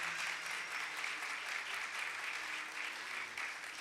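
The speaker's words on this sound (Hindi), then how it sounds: "जोरदार तालियां बजाएं" Congregation applause at a Sunday church service, a continuous, even spread of many hands clapping, fairly quiet and distant, holding steady for a few seconds with no speech over it.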